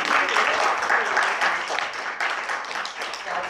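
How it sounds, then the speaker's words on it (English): Audience applause at a Toastmasters club meeting, a dense, steady burst of clapping throughout, fairly loud and close, with voices mixed in. "let's have a big applause"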